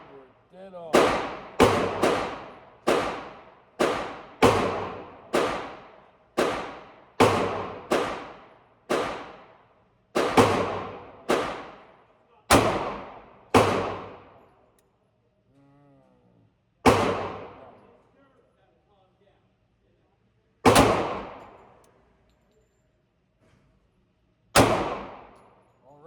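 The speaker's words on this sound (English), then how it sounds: "I like the way they both shoot." Sig Sauer 220R and HK USP Compact .45 pistols fire at a range: about twenty loud, sharp shots, first in quick strings, then slower single reports spaced several seconds apart, each ringing out briefly.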